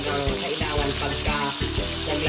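Pork steak fries in a Saladmaster pan. A dense, loud sizzle with rhythmic bubbling pulses carries through the short stretch.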